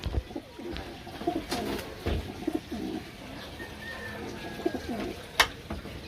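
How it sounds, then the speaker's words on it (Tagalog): Pigeons coo in soft, repeated throaty rolls nearby, with a few sharper chirps and light rustling around them, no speech. "Ayan po yung magandang uri ng kalapate ko."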